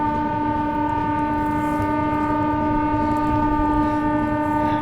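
Sustained horn of the Mau–Anand Vihar SF Express passenger train, a loud, close, steady multi-tone blast holding unbroken for several seconds over the low rumble of the moving train.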